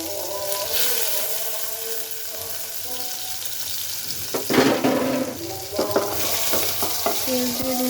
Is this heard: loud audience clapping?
no